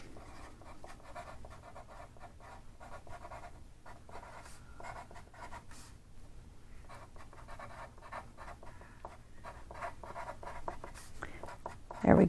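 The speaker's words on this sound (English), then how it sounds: "I'm going to write that on here." A pen scratches steadily across a paper envelope template in quiet, close strokes, continuing for several seconds alone before a brief louder knock at the very end.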